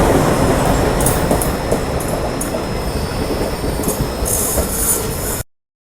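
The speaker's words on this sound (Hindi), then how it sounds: "जब एल्को लोकोमोटिव किसी ट्रेन को खींच रहे हो" An ALCO diesel locomotive hauls the Kakinada Port Shirdi Express in India. The loud, close rumble of rolling rail cars carries bursts of high wheel squeal and then cuts off abruptly.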